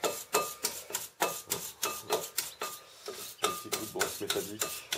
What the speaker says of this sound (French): prenez une brosse métallique avec des poils souples dans la mesure du possible